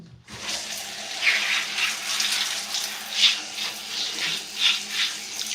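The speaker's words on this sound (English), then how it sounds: "Now I'm going to put a little bit of water in my hair, not too much" Water runs steadily from a tap, a close, continuous hiss with slight surges as hands move through the stream while wetting hair, and no one speaks.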